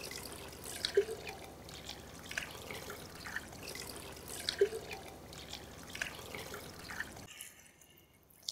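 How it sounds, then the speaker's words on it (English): Cold water trickles and drips around the feet after a hot foot bath, a soft irregular splashing that stops abruptly near the end, with no talk. "So you remove the feet, and then you apply cold water around the feet."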